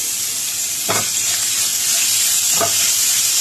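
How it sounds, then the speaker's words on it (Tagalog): Ground meat sizzles steadily in a hot pan with onion and garlic, a constant close hiss broken by two brief stirring scrapes. "Saka lagyan na natin yung karne. Giniling."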